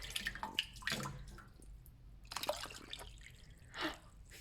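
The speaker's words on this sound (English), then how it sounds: "It took 4 cups of water to fill up the popcorn container." Water is poured into a popcorn container in short bursts, splashing and trickling close by, with quiet pauses between pours.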